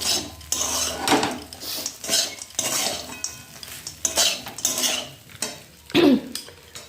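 A utensil stirs and scrapes against a pan as food fries with salt and turmeric, giving clattering, irregular bursts of metal-on-metal with a faint sizzle underneath.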